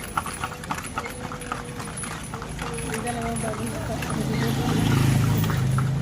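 Horse hooves clip-clop steadily on a street as a horse-drawn calesa rolls through Vigan, a rhythmic clatter under traffic noise and nearby people talking.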